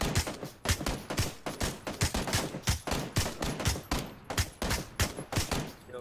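Rapid gunfire from the video game Battlegrounds (PUBG): a dense run of sharp, loud shots in a fast, fairly even rhythm that continues for the whole stretch, with no talking.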